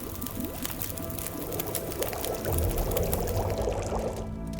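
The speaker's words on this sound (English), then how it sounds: "Add fuel and boil water." In The Long Dark, water on a campfire bubbles and trickles quietly and steadily, with faint crackling and a softer gurgle swelling midway, no talking.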